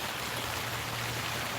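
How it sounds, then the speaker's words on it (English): Steady rain falling outdoors, a continuous soft hiss with no clear individual drops, heard alone at moderate level without talk. "Listen to that rain."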